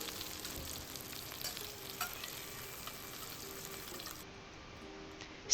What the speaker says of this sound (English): Stir fry on high heat for about 3 minutes or until the pepper color turns darker.